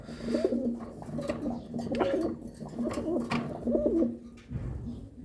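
Pigeons coo close by in repeated throaty, bubbling phrases, several calls in a slow rhythm over faint background noise.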